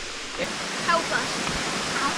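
Longnose Waterfall at Lake Hartwell in South Carolina, a steady broadband rush of falling water that holds continuously under a few faint voices nearby.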